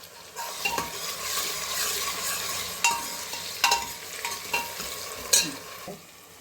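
Tomatoes are added to a hot frying pan and stirred into the cooking masala, a continuous sizzle broken by sharp scraping knocks of a spoon against the pan at uneven intervals.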